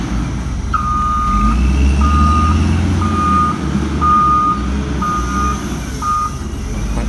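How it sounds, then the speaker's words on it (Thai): Repeated reversing beeps ring out from a wheel loader at a Thai earthworks site near a steep drop of almost 8 metres, six evenly spaced tones over a steady, loud diesel engine rumble, with no talk. "รถตักล้อยางมันจะเร็วกว่านะเคลื่อนที่ได้เร็วกว่าแท็กเตอร์"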